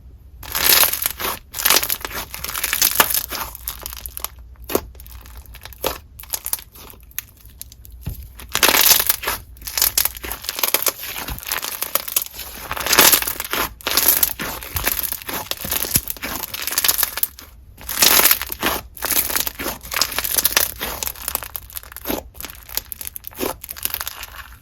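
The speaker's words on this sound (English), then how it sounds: "It's pretty stretchy, has really great bubble pops, inflates a little bit" Clear store-bought slime mixed with bingsu beads is squished and stretched up close, giving irregular crackling, popping bubble bursts and crinkly squelches in uneven clusters with brief pauses.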